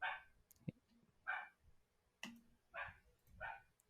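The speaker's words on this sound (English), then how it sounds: "my dog does not want to stop barking" A dog barks indoors in a string of five sharp, separate barks spaced about a second apart, fairly faint, with small knocks and handling noises between them.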